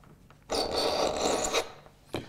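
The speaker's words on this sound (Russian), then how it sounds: "Теперь давай попробуем Поточить. после точилки." A kitchen knife is drawn through a Rubin knife sharpener in one close, rasping stroke of about a second, followed by a faint scrape. No voices are heard.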